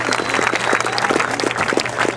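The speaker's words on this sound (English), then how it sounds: "So let's give her a big round of applause." An outdoor rally crowd at a Break Free protest in Anacortes, Washington gives a round of applause, a moderate wash of clapping with some distinct individual claps and low background rumble.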